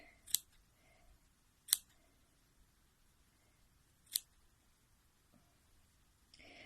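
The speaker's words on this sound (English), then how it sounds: "Anything that's looking a bit long and raggedy, just snip that right off." Scissors snip loose yarn ends while trimming a mini pom-pom, giving three sharp, isolated cuts spaced out over quiet, with a faint rustle of handled yarn near the end.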